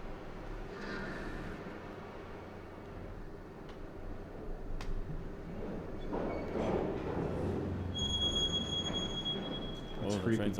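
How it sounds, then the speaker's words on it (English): A train passing outside a hotel, heard as a steady low rumble building in the second half, with people talking over it throughout. "Just suddenly hear the train."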